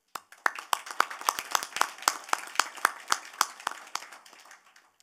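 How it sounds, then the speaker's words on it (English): A round of applause in the public session of the 6th Asia Initiative meeting: many hands clapping steadily at moderate distance, fairly quiet, with crisp overlapping claps that thin out and fade toward the end. "I think we can give ourselves a round of applause."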